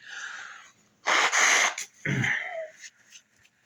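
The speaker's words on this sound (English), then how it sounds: "I'm going to sneeze, I'm going to blow my nose" A sharp sneeze, then a forceful nose blow, close and loud, with quiet breathing in between.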